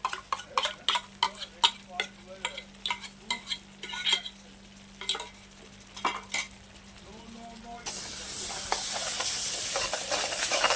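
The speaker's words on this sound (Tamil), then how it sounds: "நல்லா வணக்கி விட்டுருங்க சின்ன வெங்காயத்தோட வாசம் பச்சை வாசம் நல்லா போகட்டும்" Small shallots and ginger sautéing in a pan, with steady sizzling and a run of metal spoon stirs and scrapes; the frying swells louder toward the end.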